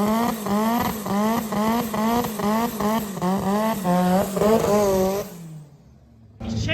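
A front-wheel-drive drag car's engine screams in rapid rhythmic rev pulses during a burnout, loud and close, then cuts off abruptly into near silence before a brief final burst.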